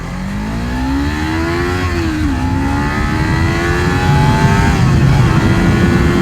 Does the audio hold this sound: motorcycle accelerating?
yes